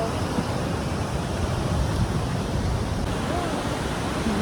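Sea waves wash onto Paradise Beach in Pondicherry, a steady, broad roar of surf with low rumble and wind over the microphone, continuous and fairly close, without distinct individual breaks.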